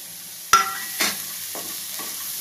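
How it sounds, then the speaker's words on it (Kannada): A spoon stirring spicy masala sweet corn in a pan, with a sharp scrape at the start and a few softer scrapes after it, close and fairly quiet over a faint background hiss. "ಅದೇನು ಫ್ರೈ ಮಾಡೋದೇನು ಬೇಕಾಗಿಲ್ಲ, ಮಿಕ್ಸ್ ಆಗೋವರೆಗೂ ಮಾತ್ರ 1 ನಿಮಿಷ ಮಿಕ್ಸ್ ಮಾಡೋಣ"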